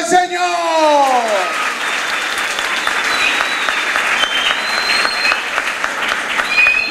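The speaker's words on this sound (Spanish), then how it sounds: "¡Dale un aplauso al Señor!" An audience at a sports club awards ceremony breaks into steady, full applause that holds at an even level throughout, with a sung or spoken tone fading at the start and faint whistles and voices scattered through the clapping.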